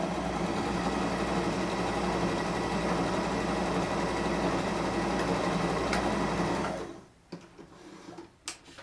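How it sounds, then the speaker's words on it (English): A sewing machine stitches a quick seam down the edge of a piece of fabric, a loud, steady mechanical whir that runs continuously for about seven seconds, then stops abruptly, leaving a few faint clicks and handling noises. "we're going to go ahead and just run a seam quickly down the edge of the fabric"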